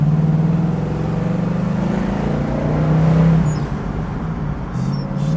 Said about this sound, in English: Good old American V8. These Pontiac motors kind of beat to their own drum.